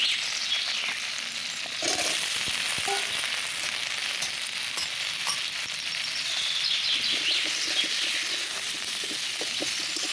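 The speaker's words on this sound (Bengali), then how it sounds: "পেঁয়াজের সাথে চিংড়িগুলো আমি একটু নাড়িয়ে নেব" Steady frying sizzle of prawns and onion with occasional scrapes of stirring in a pan, close and continuous, with faint chirps in the background.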